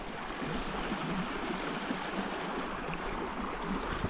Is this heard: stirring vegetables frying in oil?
no